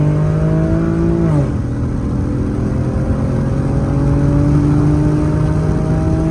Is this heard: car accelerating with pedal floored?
yes